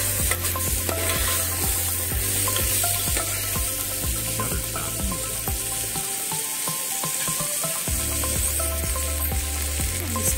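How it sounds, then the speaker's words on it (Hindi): A spoon scrapes and stirs through washed rice in a cooking pot with a rhythmic series of strokes over a low sizzle, with a brief pause midway, while making jeera rice. "चावल को हम अच्छी तरह मिक्स कर लेंगे।"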